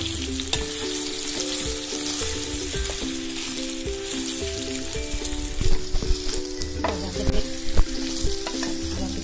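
Banana pieces fry in a pan while being stirred, a loud continuous sizzle broken by scraping, clattering stirring strokes that grow busier toward the end.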